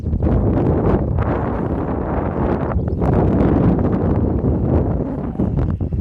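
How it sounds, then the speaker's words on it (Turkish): Steady, loud wind buffeting the microphone, a continuous low roar with gusts and rustling throughout, no one speaking. "Biraz da rüzgar var aslında."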